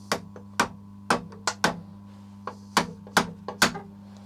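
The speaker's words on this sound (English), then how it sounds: "Barson hammer drift. It's a hammer and it's a drift." Sharp metal-on-metal hammer blows with a Barson hammer drift while hinging a gate, about a dozen strikes in irregular bursts, close and ringing over a steady low hum.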